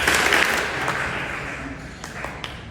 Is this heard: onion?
no